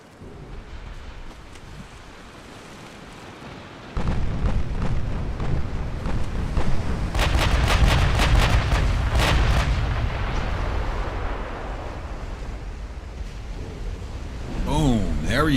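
A battleship fires artillery salvos in an 1890s-era naval strategy game, with deep booming rumbles and a steady roar of gunfire sustained for several seconds, under a speaking voice.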